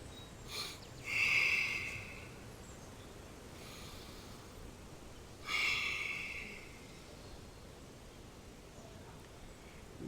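Two slow, close breaths drawn in through the nose during a breathing exercise, each a soft airy rush lasting about a second, separated by several seconds of near silence.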